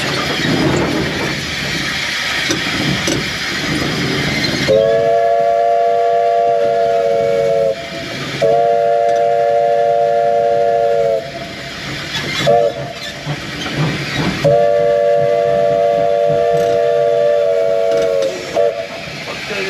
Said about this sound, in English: you can give your whistle since we're coming up into the crossing there